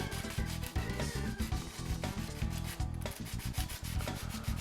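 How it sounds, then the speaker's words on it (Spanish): Steady rasping strokes of a hand file against the motor pod of an RT3 slot car chassis, close and continuous with quick back-and-forth rhythm, no talk. "lo que vamos a hacer es limar un poco esta cara de aquí"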